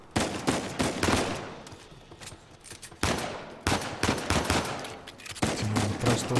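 Gunfire bursts in Uncharted 4 come in several sharp volleys, with rapid shots and louder blasts separated by brief lulls. The combat sounds are close and punchy, with no voices over them.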